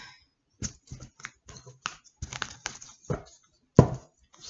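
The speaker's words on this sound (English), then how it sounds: "Cutting the deck for Taurus." Tarot deck being cut and handled: a run of crisp, quick card snaps and taps in irregular rhythm, close up, ending in one louder slap, with no voices.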